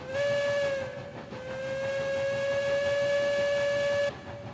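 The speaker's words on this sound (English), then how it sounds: "Let's pull the whistle here." A steam locomotive whistle in the video game Railroads Online sounds close and loud in two long blasts, the first short and the second held for about three seconds, over a hissing background.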